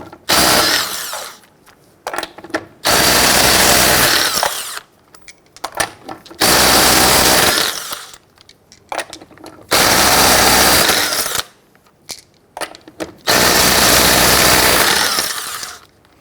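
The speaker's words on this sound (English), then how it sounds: "loosen and remove your lug nuts." A power impact tool loosening and removing 19mm lug nuts on a 1999-2004 Jeep Grand Cherokee, loud harsh rattling bursts of several seconds each, repeated four times with short pauses between.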